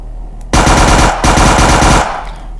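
Bursts of automatic gunfire from guns in a video game still in development: a loud, dense rattle of rapid shots starting abruptly, a brief break, then more sustained firing that stops and leaves a quiet tail.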